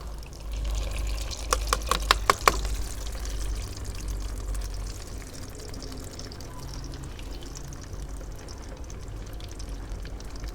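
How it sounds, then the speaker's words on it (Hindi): Potato chapli kababs fry in hot oil, a couple at a time, giving a steady, moderately loud sizzle with a cluster of sharp pops early on. "जब तक ये फ्राई हो रहे हैं"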